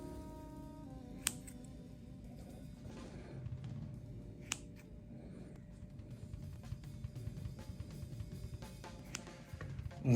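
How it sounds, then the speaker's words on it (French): Scissors snip through soft, cooled mochi dough as it is cut into eight portions: a few sharp, isolated clicks spaced several seconds apart over a quiet kitchen background. "Je vais maintenant, avec des ciseaux, préparer 8 petites parts, 8 pâtons pour faire mes mochis."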